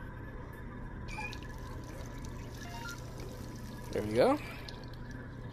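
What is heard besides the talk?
water filling kettle at sink in Job Simulator video game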